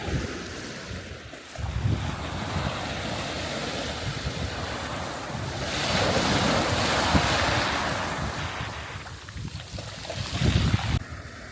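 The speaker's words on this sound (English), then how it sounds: "We're just sat here on the beach." Waves wash onto the shingle beach at Spey Bay, breaking in soft swelling surges over the rocks with heavy wind buffeting the microphone throughout.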